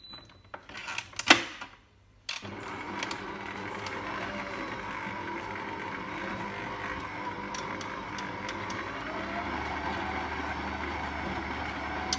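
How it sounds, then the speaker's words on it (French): After a brief clatter and a pause, a stand mixer fitted with a flat beater runs at speed 3, mixing pastry dough for a Belgian cheese tart into a ball, giving a close, even motor whir. "je vais venir mélanger le tout donc avec la feuille du robot jusqu'à l'obtention d'une boule de pâte"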